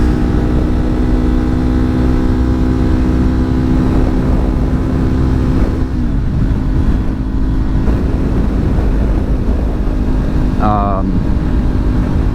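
A Kawasaki Ninja 400 motorcycle engine drones steadily while riding in strong wind, heavy wind buffeting roaring over it, with a couple of brief rising revs.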